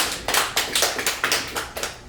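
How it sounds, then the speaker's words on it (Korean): Rhythmic clapping at a culture school lecture in Sinchon, Korea, loud and close, with roughly eight sharp, evenly spaced bursts of hands in a steady beat and no voices. "큰 박수 부탁드립니다."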